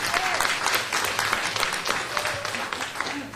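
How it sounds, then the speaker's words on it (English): Audience at a public listening session breaks into a round of applause for a former council member, steady dense clapping filling the room throughout with a few faint voices mixed in. "If we can give him a round of applause"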